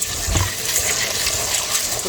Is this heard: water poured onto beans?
yes